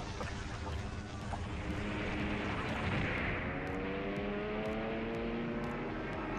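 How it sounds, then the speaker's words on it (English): A war video game's ship-sinking effect: a deep, sustained rumble with groaning, slowly shifting tones, moderately loud and unbroken, with a few faint clicks near the end. "Have a ship sinking noise."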